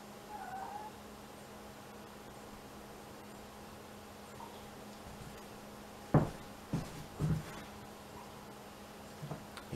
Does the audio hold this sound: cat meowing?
yes